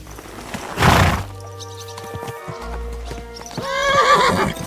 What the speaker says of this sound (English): Get on your horse, or we'll never get it